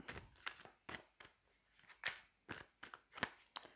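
Tarot cards being handled and shuffled before three are drawn, heard as a series of close, soft riffling and tapping bursts at an irregular rhythm, quiet overall.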